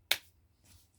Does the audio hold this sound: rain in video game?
no